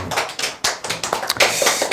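Audience members at a sales coaching lecture clap in a loose, uneven patter of distinct hand claps, fairly close and clear, with no voices over them.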